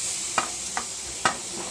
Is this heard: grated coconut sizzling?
yes